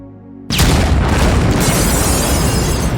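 A cartoon explosion in an American Dad Christmas episode bursts in suddenly after a quiet musical note, then a loud, sustained roaring rumble with crackling debris that carries on without pause.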